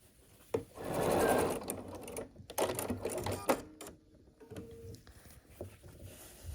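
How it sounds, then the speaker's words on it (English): A sewing machine stitches the final seam of a scrappy sampler quilt block, running in a few short bursts with pauses between them, close by and fairly quiet. "we just need to sew this final seam together."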